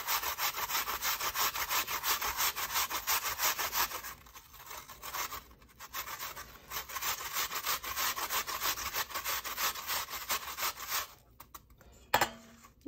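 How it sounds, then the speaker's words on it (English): Apples are shredded on the coarse side of a metal box grater, making rapid, rhythmic rasping strokes up close that continue steadily, pause briefly, then resume before stopping near the end. "we're just literally going to shred our apples"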